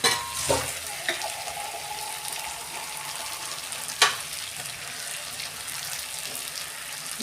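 Water poured into a pan of frying spiced pointed gourd and prawns, giving a steady sizzle with a burst near the start and a sharp splash or clink around the middle, close and fairly quiet, no talking.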